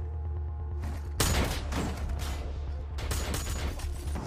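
A burst of rapid gunfire erupts after a quiet hum in a film shootout with robbers by a car, loud cracking shots, then a second volley a couple of seconds later.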